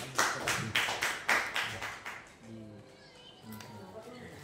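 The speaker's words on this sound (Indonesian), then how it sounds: "Beri tepuk tangan untuk kita semua." A group at a school guidance-counseling workshop claps in a quick, fairly regular burst of about eight claps for two seconds, which then gives way to a voice speaking over quiet background sound.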